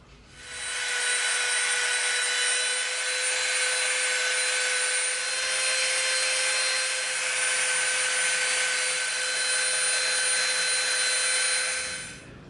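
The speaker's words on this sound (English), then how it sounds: "now we can start our dremeling" A Dremel rotary tool sands the edge of an EVA foam piece with a continuous high-pitched motor whine and a faint grinding rasp. The tool runs steadily for about ten seconds, then spins down.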